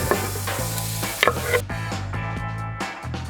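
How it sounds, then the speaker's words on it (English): Onions hiss and sizzle steadily in hot oil in a frying pan while being stirred, with clattering scrapes of a utensil against the pan at close range. "Add the onions to the pan."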